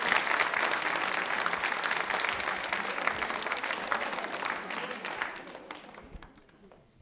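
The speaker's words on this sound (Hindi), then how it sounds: "तालियां जोरों से बजाइए मैम के लिए" An audience at a women's association quiz show on the Swachh Bharat campaign applauds steadily, a dense crowd of clapping hands that holds for several seconds before tapering off toward the end.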